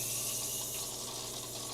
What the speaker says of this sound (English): then you're going to turn the water pump on and turn your nozzles